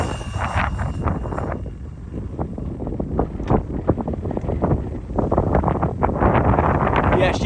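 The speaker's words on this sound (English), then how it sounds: "The wind just continues to pick up." Strong wind buffets the microphone outdoors during a top-speed run of a Traxxas Slash 2WD RC car with Castle 4S power, a loud continuous rumbling roar with gusts swelling and easing throughout.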